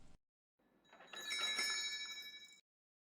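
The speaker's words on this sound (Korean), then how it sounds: "문을 열 때마다 종소리가 났어요." A small bell on a shop door jingles as the door opens, a single bright ringing burst that fades out quickly in a quiet room.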